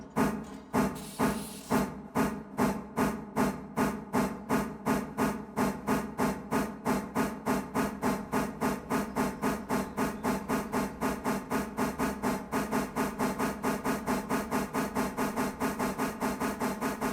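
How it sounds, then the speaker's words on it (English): Steam locomotive from the game Railroader chuffing in a steady, loud rhythm that quickens slightly over time, each exhaust beat with a hissy burst, no talking. "There, you just heard the chuffing kind of change."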